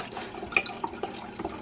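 Liquid trickles and drips while being poured off during cooking of chicken in wine, a soft, close, irregular splashing with no talk.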